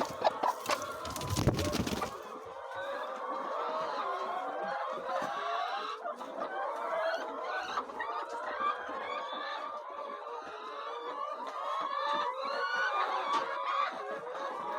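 Laying hens clucking inside dark laying boxes on an egg farm, a dense, continuous chorus of overlapping clucks and squawks at close range, with a brief loud rustle or flap near the start.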